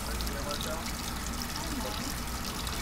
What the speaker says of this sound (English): Gotta take a shower.